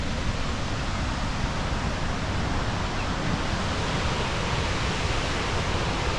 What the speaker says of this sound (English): You can see the waterfalls through the trees.